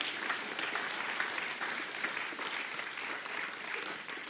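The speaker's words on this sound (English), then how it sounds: "give it a nice round of applause." An audience at a live science show claps in a steady round of applause, a continuous, even wash of clapping heard from within the crowd with no talking over it.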